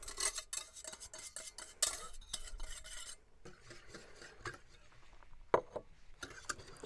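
Spoon stirring warm milk into honey in a bowl while making biscôme dough, a quick run of clinking, scraping strokes that fades into softer, sparser mixing noises with an occasional sharp tap.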